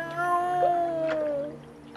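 A human voice imitates a cat, drawing out one long, tonal, wavering meow in a quiet setting.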